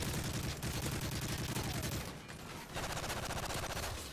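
AK rifle fire in a first-person shooter game: dense, rapid automatic bursts, loud and close, with a brief lull midway before the firing resumes.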